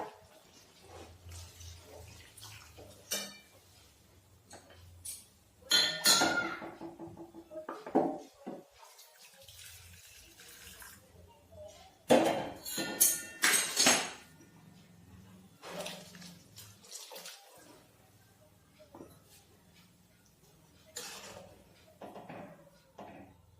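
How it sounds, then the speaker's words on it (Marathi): Heated water is poured into a ground onion-garlic masala while cooking methi rassa bhaji, a fenugreek curry, giving quiet splashing bursts and clinks of a pan amid long soft pauses in a home kitchen. "या मिश्रणामध्ये गरम केलेले पाणी टाकूया।"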